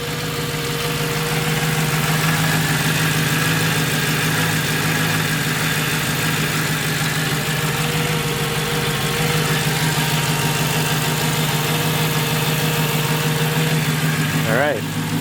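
A Mercedes C55 AMG idles after new spark plugs and coil packs, parked close to a garage wall with its exhaust dumped at the differential, giving a loud, steady, even drone that holds for the whole stretch.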